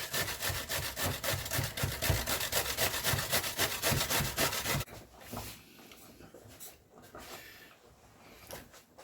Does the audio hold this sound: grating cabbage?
yes